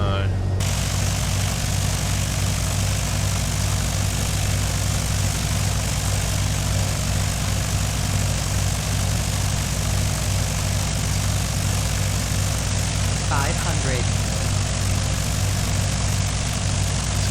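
A propeller aircraft engine drones in the Prepar3d flight simulator, a steady loud hum lasting throughout with no break, with someone talking over it.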